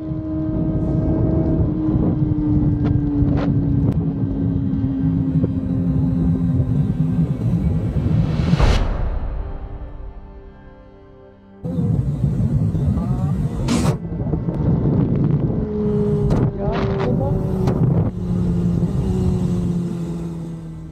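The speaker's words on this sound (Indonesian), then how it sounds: "pada saat Carl lagi mengendarai motornya" A motorcycle ride captured from a helmet-mounted GoPro: a loud, steady engine drone with shifting pitch and heavy wind rush, briefly dropping away mid-ride before resuming at full strength.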